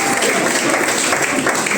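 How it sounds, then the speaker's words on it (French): Church congregation applauding and cheering together for a visiting coach during a sermon, a dense, steady wash of clapping close by with no pauses. "Acclamez pour coach Yanachi."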